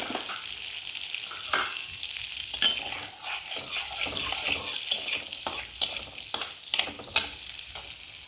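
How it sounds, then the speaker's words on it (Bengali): Small cardamom pods with split mouths sizzle and crackle steadily in melted butter in a pan, with occasional stirring scrapes over the continuous frying hiss; no talking. "বাটারটা গলে গেলে এর মধ্যে দিয়ে দিচ্ছি 3টে এলাচ, ছোট এলাচ"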